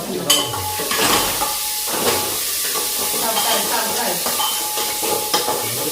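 Onion fries in a pan for masale bhaat, a close, continuous sizzle broken by repeated scraping and tapping of a stirring spoon.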